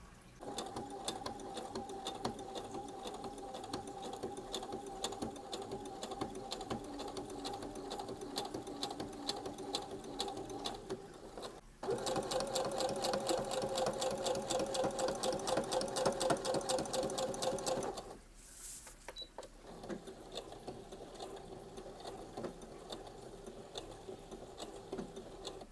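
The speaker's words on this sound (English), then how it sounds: "then I have to sew the pocket onto that piece" A sewing machine stitches a pocket onto a crocheted tote bag, running in a fast, even mechanical whir that gets louder partway through, pauses briefly, then resumes. Heard up close.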